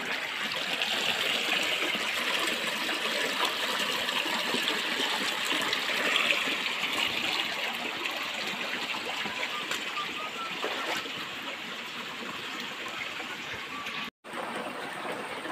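Stream water flowing through a quiet forest, a steady close rushing and splashing that runs continuously and evenly throughout, with a brief dropout near the end.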